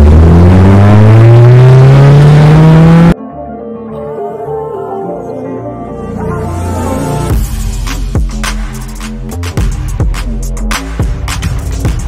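A Mercedes-Benz W204 with a faulty ignition coil, its engine loud and close, first rising in a steady rev for about three seconds, then settling into a rough, uneven idle with sputtering irregular pulses.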